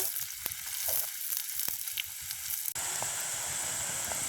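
Chopped onions and chillies fry in oil during village-style cooking, giving a dense, continuous sizzle heard close and loud that shifts in tone partway through, with no voices.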